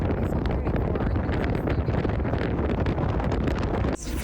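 Strong wind gusts buffet a 32-foot sailboat on the Intracoastal Waterway in South Carolina, a loud, continuous roar of wind noise across the microphone that drops off abruptly near the end.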